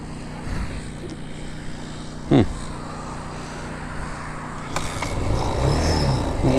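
A dirt bike being kickstarted outdoors, a thump from the kick followed by a rough engine rumble that builds toward the end, with a person talking over it.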